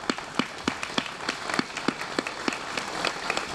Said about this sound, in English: We just want to give you a round of applause and show our gratitude to you.